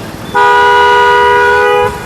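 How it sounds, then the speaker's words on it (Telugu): A car horn, from a 2018 Mahindra XUV500 W9 AMT, sounds one long, steady, loud honk lasting about a second and a half, close by, with faint road noise around it. "horn మారో ఎక్బర్ horn మారో"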